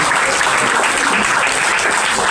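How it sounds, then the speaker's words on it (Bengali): Sustained applause from an audience at a motivational gathering for a direct-selling platform, dense steady clapping filling the whole moment without pause. "তার জন্য একটা বড় হাততালি"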